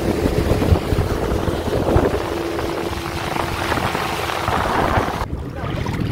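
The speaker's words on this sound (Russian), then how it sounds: "Вот так мы покатались на лодке." A small boat rides across open water near an island, with a steady rush of wind buffeting the microphone over a low engine drone and water wash, continuous and loud until a brief drop near the end.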